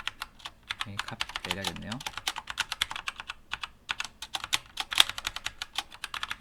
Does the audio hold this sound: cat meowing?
no